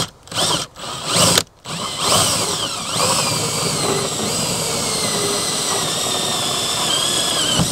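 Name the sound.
power drill drilling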